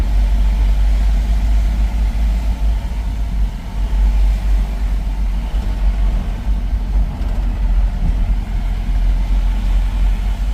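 A truck engine drones on the Phonda ghat mountain road, a heavy, steady low rumble that stays loud and close without a clear break.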